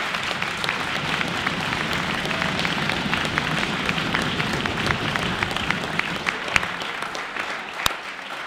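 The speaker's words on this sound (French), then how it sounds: "Je vais les applaudir." Sustained applause for the winning team at a French national debating championship, a broad wash of many hands clapping steadily throughout, with a few sharper claps standing out near the end.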